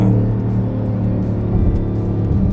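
A BMW X5 M50d diesel SUV engine rumbles steadily and close as the accelerator is pressed and released. The low engine note holds throughout with only slight swells.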